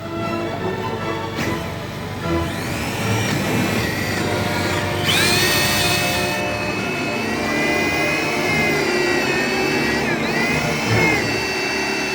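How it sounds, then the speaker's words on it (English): A power drill whines steadily close up, its pitch rising and dipping as it bores through material, with brief pauses and bursts of higher-pitched grinding. "I'll just drill the rest out"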